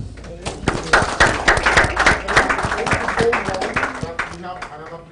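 Audience applause for guests at the close of a fireside chat event, steady crisp hand clapping from a moderately sized room, fairly close and lasting several seconds before tapering off.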